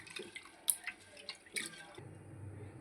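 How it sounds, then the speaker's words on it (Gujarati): Toor dal being rinsed with water inside a pressure cooker, with sparse wet drips and splashes, a couple of sharper clinks, then a softer swishing wash toward the end; quiet and close, no talking. "પાણી નાખીને આપણે તુવેરની દાળને આ રીતે મસરી ધોઈ લઈશું"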